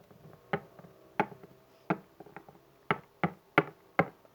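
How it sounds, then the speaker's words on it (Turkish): Hands clapping in a Pink Panther cartoon setting: about nine sharp, dry claps in an uneven rhythm, fairly close and alone with no talk. "Alkış"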